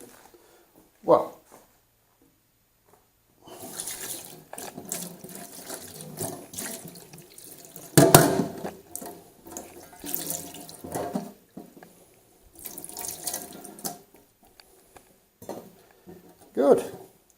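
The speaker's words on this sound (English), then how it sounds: "Then I activate the apparatus and inject water." Water runs from a Lelit espresso machine as it is rinsed during cleaning, a loud gushing spray in bursts with clinks and handling knocks between them and quiet gaps.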